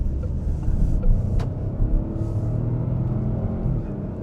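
Peugeot 5008 hybrid with a turbocharged 1.2-litre three-cylinder engine accelerating, a steady loud rumbling drone that holds for several seconds with no talk over it.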